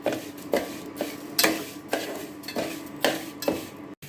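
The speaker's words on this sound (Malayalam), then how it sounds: "നല്ലോണം വറുത്ത് കൊടുക്കാം." Roasting in a pan for cherupayar payasam, a spoon scraping and clanking against the metal pan in steady strokes about every half second, close and fairly loud with no talk.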